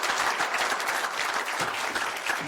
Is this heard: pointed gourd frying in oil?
no